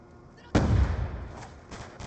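A frag grenade blast in Black Ops II erupts as a sudden loud boom after a quiet start, then rumbles and decays over a second or so with faint trailing crackles.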